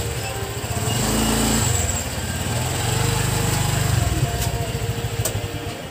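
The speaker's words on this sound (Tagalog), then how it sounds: "tapos na mag-practice motor si Nathan, lumalayo na siya" A Honda Click 125 motor scooter engine drones steadily during riding practice, swelling and easing as the rider moves, with no voices present.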